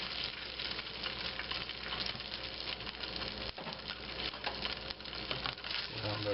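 A fake meat patty fries in a pan with a continuous, close sizzle and spitting crackle. It stays fairly even throughout, with a few brief scrapes or shifts and faint background voice.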